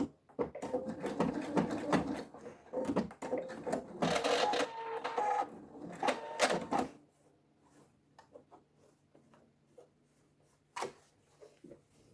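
A domestic sewing machine stitches appliqué letters onto fabric in irregular runs of rapid mechanical clatter, with short pauses and clicks between bursts as the presser foot is lifted for curves, then a quieter stretch with only occasional clicks.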